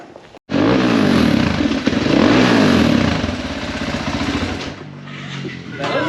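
A supermoto motorcycle engine revs loudly and close by, its pitch swinging up and down in waves, while several voices talk over the roar.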